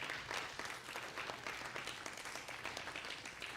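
Church congregation applauding together, a steady dense wash of many hands clapping that fills the room without pause.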